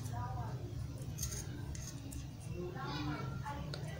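Scissors cut out a leather letter for a bridal hand fan, making faint, quiet snips under a person talking.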